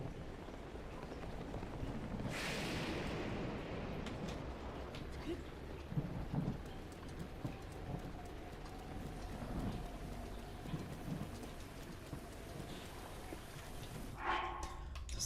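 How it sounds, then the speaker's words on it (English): A thunderstorm in the video game Breath of the Wild brings steady, heavy rain hiss throughout, with a clap of thunder early on and another rumble near the end, and scattered soft game sounds underneath. "it is very rainy"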